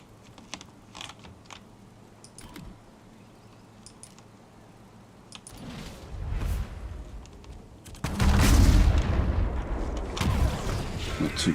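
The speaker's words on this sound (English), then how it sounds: "Gets to use his bombing run now." Explosions from a bombing run in an Advance Wars-style strategy video game: faint clicks at first, then a rumbling blast that swells into a loud, sustained roar of booms.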